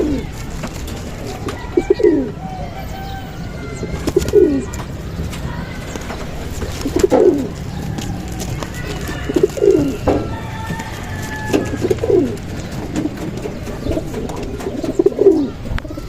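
Racing pigeons in a loft coo in repeated courting calls, about seven throaty bursts spread evenly against a low background hum, close and moderately loud, with other birds faintly audible.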